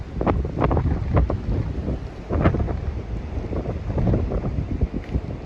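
Gusty wind buffeting the microphone in rough, uneven bursts, with a low roar and occasional water sounds in the background.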